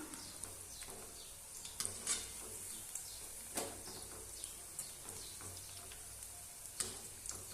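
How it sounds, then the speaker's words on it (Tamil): Cauliflower 65 masala pieces frying in hot oil, giving a steady, quiet sizzling hiss dotted with sharp crackles and pops throughout. "காலிஃப்ளவர் பாருங்கள் எண்ணெயில் போட்டுக்கிட்டோம்"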